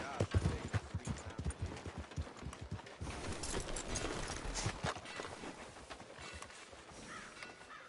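Horse hooves clip-clop on the ground in Red Dead Redemption 2, a steady walking rhythm close by under ambient game sounds, with crows cawing and voices talking faintly at times.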